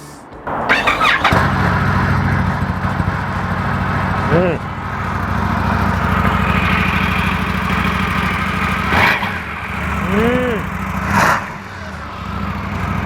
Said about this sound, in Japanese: エンジンかけていきたいと思います